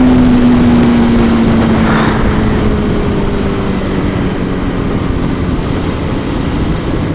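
A sports motorcycle, a Honda Fireblade or Aprilia V4, hums with a droning engine note that shifts in pitch under heavy wind rush, loud and continuous with no talk.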